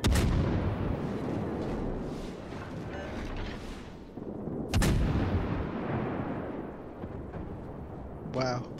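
Naval guns fire in the World of Warships game, a sharp booming salvo at the start and another heavy blast midway, each rolling into a long rumbling tail, with a voice talking over the battle.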